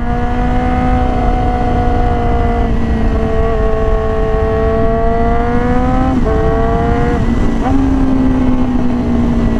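A loud Yamaha R6 motorcycle engine with a slip-on exhaust drones steadily up close, its exhaust note holding a rough tone with a few brief revs and shifts in pitch.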